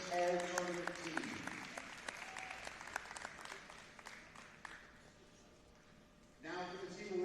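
Applause at a girls' championship tournament awards ceremony honoring the all-tournament team, a dense crowd clapping that tapers off, with an announcer's amplified voice over the clapping at the start and again as it fades.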